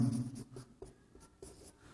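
Pen or chalk strokes while chemistry reaction steps are written out, soft scratchy marks in a few brief bursts over a low steady hum, close and fairly quiet.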